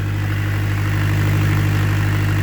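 A diesel high-pressure irrigation water pump rated at 50 cubic metres per hour runs at low throttle, giving a steady, even drone with a firm low hum that stays constant throughout.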